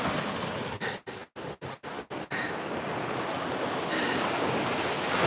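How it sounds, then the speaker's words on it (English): Ocean surf from waves breaking along a coast, a steady broad wash rising and falling, briefly interrupted by several sharp dropouts early on, then continuing loud and even. "We see waves and rainbows."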